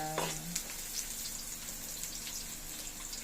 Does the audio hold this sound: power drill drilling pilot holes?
no